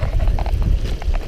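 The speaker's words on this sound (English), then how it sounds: "wind's picking up" Wind gusts across a microphone on Blencathra mountain in the Lake District, making close, rumbling buffeting in uneven surges.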